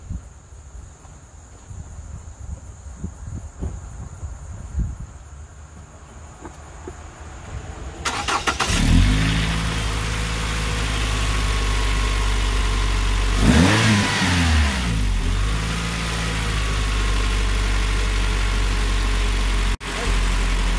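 Insects chirp quietly in the background, then a car engine fitted with new NGK Laser Iridium spark plugs starts up close and idles loudly, with a brief rev partway through.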